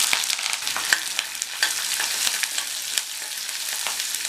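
Chopped onion, two green chilies, ginger and curry leaves sautéing in a pan, heard close as a loud, dense, crackling sizzle with scattered sharp pops and stirring scrapes throughout, with no talking.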